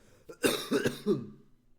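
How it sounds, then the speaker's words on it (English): A few harsh coughs in quick succession, close to the listener, followed by a brief throaty trailing sound. "Sorry for coughing"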